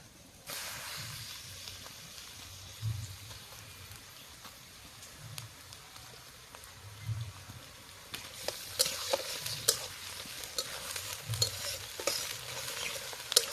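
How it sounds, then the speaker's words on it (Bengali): Meat pieces and lightly fried onions sizzle in a pan during outdoor cooking in a garden, a steady close hiss with rhythmic stirring scrapes that turns louder and more crackly partway through, with no talking. "পেঁয়াজটা একটু হালকা ভাজা হয়েছে, মাংসের পিসগুলো দিয়ে দেবো।"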